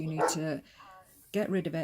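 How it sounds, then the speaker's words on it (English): Pet dogs barking in the background of a home, a couple of yips and barks mixed in with someone speaking close to the microphone, brief and partly masked by her talking. "which you can hear my dogs are in the background"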